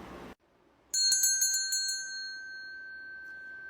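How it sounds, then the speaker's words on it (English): A bicycle bell rings with several quick bright dings, then its clear metallic tone lingers and slowly fades, heard close and alone after a short burst of noise. "Bell. And another one."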